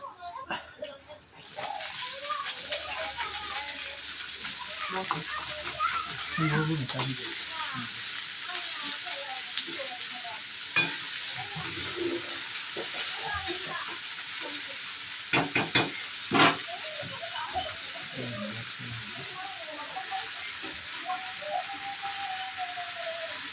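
Greens (saag) sizzling and frying in a pan for a home-cooked lunch, a steady hiss running throughout with occasional stirring clatters, while a person talks over it.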